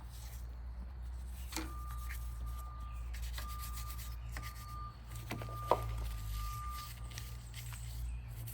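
Corrosion scrubbed off a car battery terminal by hand, a close, steady rubbing and scraping with a few sharper knocks over a low background hum.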